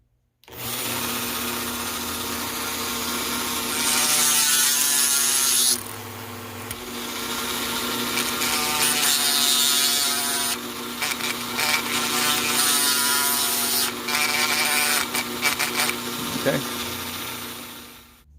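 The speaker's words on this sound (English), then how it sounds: "I'm going to drill this rivet out right here." A high-pitched rotary tool whines close up as it drills into a rivet, pausing briefly and changing pitch as it bites into the metal.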